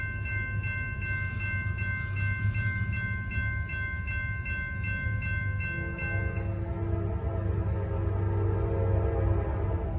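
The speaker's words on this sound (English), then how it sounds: "this is train 21M, and they scream by" A train rumbles steadily past at close range, a sustained horn blaring over the rolling noise before shifting pitch as it moves on.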